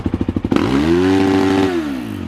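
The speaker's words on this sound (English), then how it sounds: "are you okay with me revving it?" A 2021 Kawasaki KX450X dirt bike engine idles with quick lumpy pulses, then snaps into a sharp rev that holds high and steady before dropping back, loud and close.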